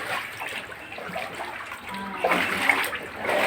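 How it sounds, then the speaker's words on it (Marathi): Water sloshes and splashes in an irregular rhythm as someone wades through shallow floodwater in a residential lane, close by and moderately loud. "आपण चालतो एवढ्या पाण्यातून बघा"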